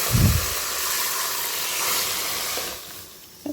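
A loud splash of boiling water hitting a hot pan while making kesari at the start, then a steady hiss and sizzle that carries on, with a brief clatter near the end.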